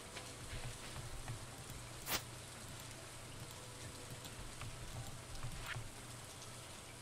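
Steady rain patters evenly throughout in the video game Stardew Valley, a dense continuous hiss with a low hum beneath and one brief sharp tick partway through.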